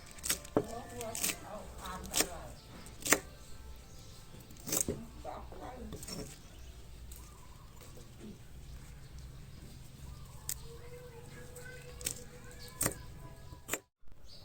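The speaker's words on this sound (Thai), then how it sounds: "ตอนนี้บาบาก็ไดหั่นหมูกรอบเป็นที่เรียบร้อยแล้วนะครับ" Knife chopping crispy pork on a cutting board for a stir-fry of Chinese kale with crispy pork, heard as a few sharp, irregular chops up close over a steady background murmur.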